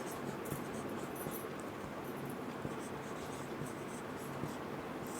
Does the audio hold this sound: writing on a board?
yes